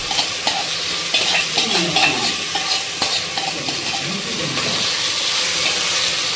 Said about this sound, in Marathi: तेलावर असं छान परतून घ्या जेणेकरून ते मसाले सगळे मुरतील